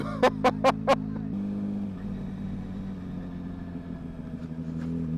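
A loud Kawasaki Ninja 600 motorcycle idles with a low, steady engine rumble, opening with four quick sharp beeps before the even idle carries on alone.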